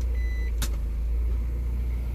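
Car shifted into gear and pulling away: a steady low engine rumble runs throughout, with a brief sharp clunk early on, close and fairly loud.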